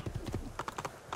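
Quick rhythmic hoofbeats of a horse galloping in Assassin's Creed 2, a steady clip-clop pattern heard up close.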